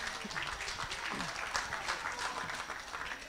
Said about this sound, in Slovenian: In en aplavz za Anthonyja Gardnerja